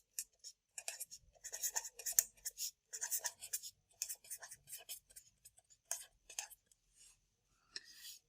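A pen scratching out an equation on paper in short, close bursts of strokes, pausing and starting again in an uneven rhythm, with faint low murmuring underneath.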